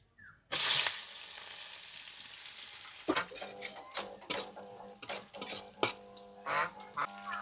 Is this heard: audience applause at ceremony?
no